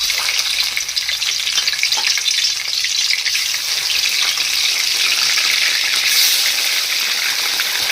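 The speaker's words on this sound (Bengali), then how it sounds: "এবার মাছগুলোকে কড়াইতে দিয়ে দিচ্ছি।" Pieces of bhetki fish sizzle and fry in hot oil in a wok for a Bengali-style rezala, producing a loud, steady crackling hiss throughout with no voices.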